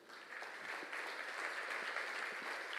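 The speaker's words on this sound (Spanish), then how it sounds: "Dale un aplauso al Señor." A church congregation applauds, a steady wash of clapping from many hands heard at moderate distance for a few seconds.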